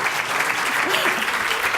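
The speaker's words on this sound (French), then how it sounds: "on applaudit Émilie qui a pris la parole, qui s'est levée." An audience at a conference talk applauds for a woman who stood up to speak, a dense, steady wash of clapping with a few faint voices mixed in.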